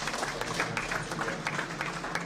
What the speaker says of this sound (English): Please, let's clap for him again.